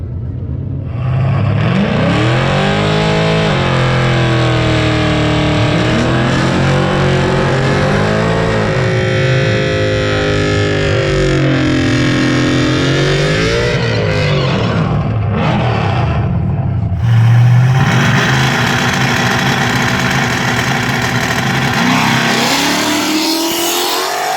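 A drag car with a swapped-in Coyote engine revs and roars loudly and continuously, pitch rising and falling through gear changes, with a sharp throttle burst near the end.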